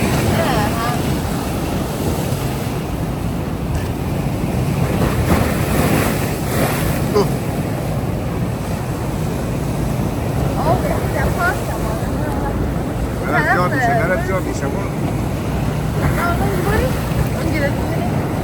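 Sea waves rolling in at the shore with gusting wind buffeting the microphone, a loud continuous roar of surf and wind throughout, with a voice faintly audible at times.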